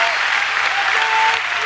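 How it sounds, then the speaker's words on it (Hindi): An audience at a religious discourse gathering in India gives loud, dense applause that carries on steadily through the short moment. "जोरदार ताली बजाई जाए"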